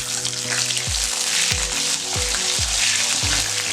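Small onions frying in hot oil for a Tamil thoodhuvalai chutney alongside dried red chillies, a steady close broadband sizzle with soft wooden thuds of stirring recurring about every half second.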